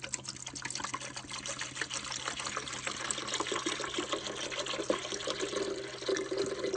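Water poured by hand into a portable RV ice maker, filling its reservoir: a faint, steady trickling splash that runs on without a break, quiet and close.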